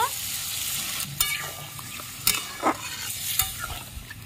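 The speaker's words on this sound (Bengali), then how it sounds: "পোস্ত দিয়ে একটু নেড়ে চেড়ে নেব" Okra being stirred with ground poppy seed paste in a pan, giving soft scraping strokes and a light sizzle, with a few sharper clinks of the spatula against the pan, close and moderately quiet.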